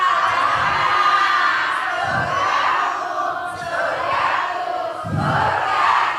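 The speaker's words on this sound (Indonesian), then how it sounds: "Tepuk tangan." A live studio audience at a predawn sahur show cheers and shouts in loud bursts, with rhythmic clapping swelling and fading over several seconds.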